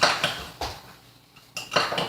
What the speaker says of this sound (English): And then I'm going to give it all a stir. Make sure I get the powders mixed